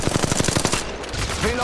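Rapid automatic gunfire in Apex Legends Mobile rattles out in a fast, even burst of about ten close shots, then cuts off into game noise with a voice line.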